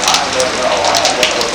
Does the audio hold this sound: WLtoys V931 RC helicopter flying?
no